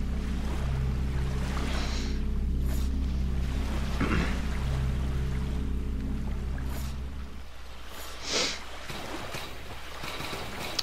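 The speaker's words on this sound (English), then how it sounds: "I awoke to the sounds of waves washing on rock, and I knew I was alive." Waves washing against rock in the video game Salt and Sanctuary, a steady low surf rolling under an ambient music drone, with a sharper splash near the end.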